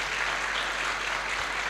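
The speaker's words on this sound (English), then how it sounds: "Would you give Ahmad Mustafa a round of applause?" Audience in a conference room gives sustained, dense applause for a committee leader seated at the back, a steady even wash of clapping throughout with no voices over it.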